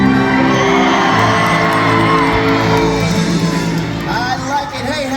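A crowd cheers and whoops loudly at the SeaWorld Orlando orca show after a jump, with a sustained roar of many voices fading toward the end.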